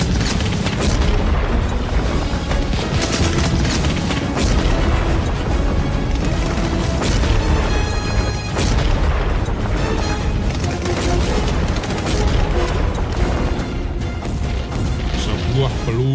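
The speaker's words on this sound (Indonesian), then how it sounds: "deretan meriam di bibir pantai Malaka menyala bersaut-sautan tanpa henti" Rows of cannons along a seashore fire repeatedly in a dense, continuous roar of booms and blasts that never lets up, loud and overlapping throughout.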